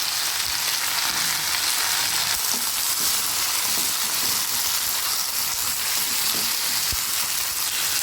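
Spices sizzle and fry steadily in a hot pan for a vegetarian patla jhol with helencha greens, a constant dense crackle with occasional stirring scrapes and no talking.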